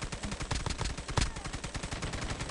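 Rapid, sustained LMG machine gun fire in the mobile shooter Call of Duty: Mobile during a squad battle royale match, a dense stream of loud gunshots with one heavier burst partway through.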